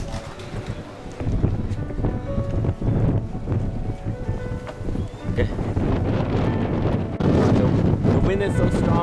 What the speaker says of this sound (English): Wind is so strong now.